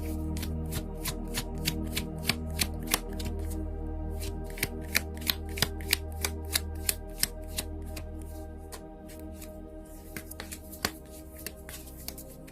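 Tarot cards shuffled by hand in a steady run of crisp riffling snaps and soft slaps, close and clear, with brief pauses and no talking.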